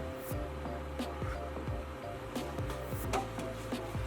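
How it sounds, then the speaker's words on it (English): A medium-size home freeze dryer runs with a steady low hum and faint mechanical ticks, quiet and continuous throughout. "we have the medium freeze dryer"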